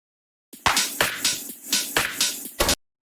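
A tech house drum loop with punchy kicks and bright, crisp hits in a steady, driving rhythm, about six accented beats over two seconds, loud and close with no voices.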